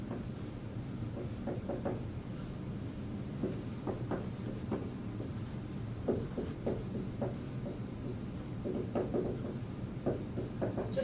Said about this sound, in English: just to write down a few things I just said